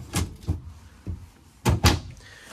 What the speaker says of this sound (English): So you have all these drawers that slide out.